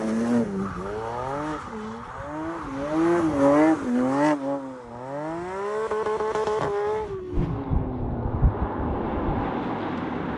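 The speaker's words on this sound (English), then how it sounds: "So before the engine blows, let's do some donuts." A Porsche 992 GT3 on Michelin tires spins donuts, its engine wailing and rising and falling in pitch under long sustained tire squeal, loud and close, then settling into a lower hum.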